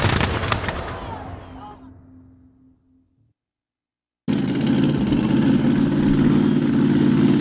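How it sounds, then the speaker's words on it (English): At a mud drag racing event, a loud, crackling engine roar fades away into near silence, then a supercharged blower engine's heavy, steady rumbling drone starts up abruptly and holds, with faint voices mixed in. "You hear the cackle of the big blower motor"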